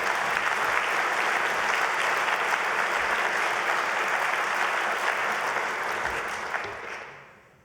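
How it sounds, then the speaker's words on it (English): An audience gives a sustained round of applause for the volunteers of the Farming Community Network, a steady, dense clapping that fades out toward the end. "Could I have a round of applause, please, for the work you do"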